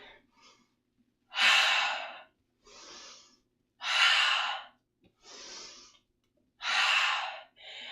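Slow, deliberate breathing during a Pilates exercise, loud airy exhales alternating with softer inhales in a steady cycle of about three breaths, close to the mic with near silence between.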